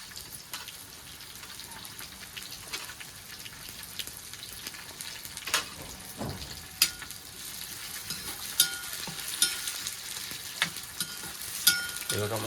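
Tomatoes fry in oil for a crab curry, giving a low steady sizzle with occasional louder spatula knocks against the pan, heard close up and without any talking.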